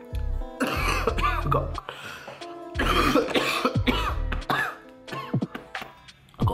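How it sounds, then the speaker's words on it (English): Several harsh, chesty coughs come in close bursts, near and loud, with a few brief spoken words between them. "a really bad cough at the moment as well"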